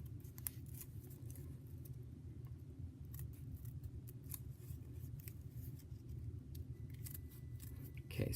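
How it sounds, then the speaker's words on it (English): Scissors snip through folded paper while cutting out a snowflake design, a steady run of soft crisp snips and rustles close by with no voices over them. "It helps get my scissors in there, and then cut away"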